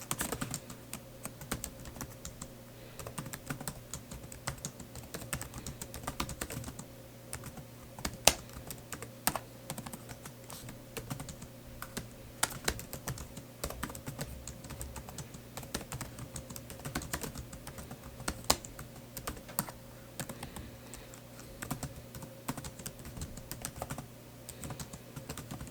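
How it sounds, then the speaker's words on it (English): Steady run of typing on the keyboard of a Dell XPS 15 laptop, keys clicking in a quick, continuous, uneven rhythm at close range for the whole stretch, with a faint constant hum underneath and no talking. "I'll include some typing footage here."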